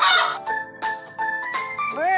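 A cartoon chicken sound effect from a kids' animal puzzle game, heard as a few short bright calls over a steady musical jingle, ending in a rising tone.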